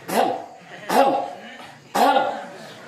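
Three deliberate throat clearings, evenly spaced about a second apart, close and loud, each a short voiced grunt-like hem.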